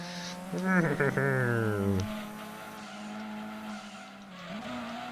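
An off-road car races in Gran Turismo 2, its engine revving hard and climbing in pitch before easing off into a quieter hum under soft background game sound.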